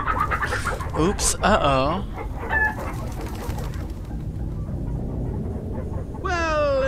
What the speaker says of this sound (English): it appears we are in the land of chickens that are indeed the size of zombies